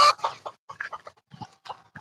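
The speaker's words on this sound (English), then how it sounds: "Are you taking care of your chickens there, Levi?" Chickens cluck in short, irregular bursts close by on a rural property in a Philippine province, one sharp squawk at the start, with no voices.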